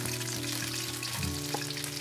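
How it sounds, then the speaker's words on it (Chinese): A fish tail fries over low heat in a pan of oil, giving a steady, close sizzle and crackle that runs unbroken for the whole stretch, with a brief soft stir or shift of the pan partway through. "我们再煎鱼尾"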